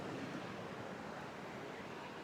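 Ocean surf beside the Surfside Beach fishing pier, a continuous broad wash of breaking waves mixed with wind buffeting the microphone, loud and steady throughout the short stretch, with no talking.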